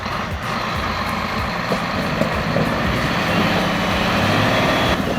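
A rescue truck's engine strains to tow a transport truck stuck in a collapsed frozen puddle on an icy road. It makes a loud, steady, close, low roar throughout, with no pauses.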